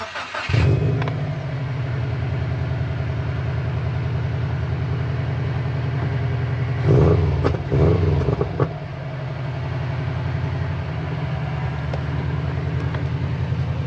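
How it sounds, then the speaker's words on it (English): Cold start of a 400HP Subaru WRX, the engine catching with a loud flare then settling into a steady, rough, nearby idle, with a couple of brief throttle blips partway through before returning to idle. "This little kid asked if he could record the cold start on the Subaru."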